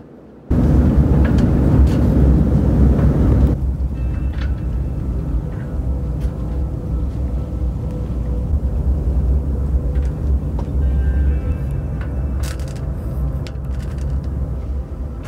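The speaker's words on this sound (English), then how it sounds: "Not sure if you can hear it, but there's a train on the bridge." A train rumbles over a bridge, heard from a sailboat on the water near Dangar Island off Pittwater; a loud, steady low roar kicks in after a short quiet moment and carries on throughout.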